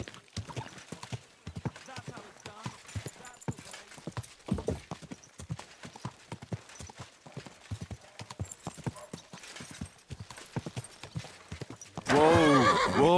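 Rhythmic clip-clop of horse hooves throughout, with faint voices underneath, ending in a loud, close neigh, from a video game, Kingdom Come.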